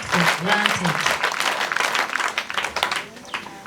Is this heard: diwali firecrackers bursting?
no